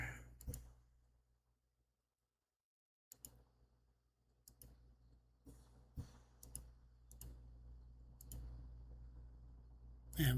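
Sparse computer keyboard typing and mouse clicks come in short bursts, with a silent gap early on and a sharper click near the end, in a quiet office-like room.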